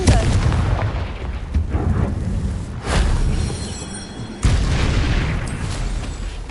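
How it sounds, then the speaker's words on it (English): A Confringo fire spell bursts in the Hogwarts Legacy game, several loud booming blasts a few seconds apart, each with a rumbling tail, while a voice casts the spell. "Confringo!"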